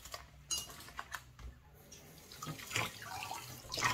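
A feeding tube extension is rinsed under a running tap at a sink, the water hissing steadily and close by, with a few soft plastic knocks and clinks and no talking.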